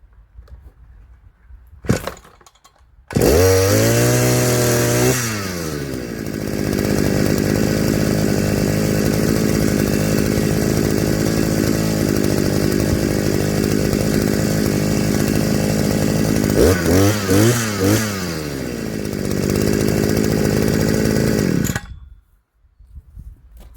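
A GT Garden 52 cc petrol brushcutter is pull-started and fires up, then runs loud and close with a steady high-revving two-stroke drone, a brief throttle blip midway, before cutting off into silence.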